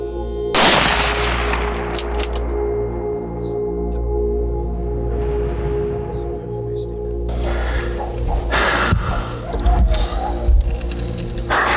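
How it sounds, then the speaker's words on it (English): A single sharp, loud rifle shot at a deer on a hunt, fired at about 300 yards, cracks near the start and echoes away, followed by rustling and handling noise. "So finally we're gonna take the shot, and 300 yards, settle the crosshairs, I shoot."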